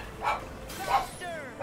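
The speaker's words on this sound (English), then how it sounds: "Oh god, the doggy." A dog barking in the video game Kingdom Hearts 3, three short yipping barks spaced apart with brief whimpering tones, moderately loud.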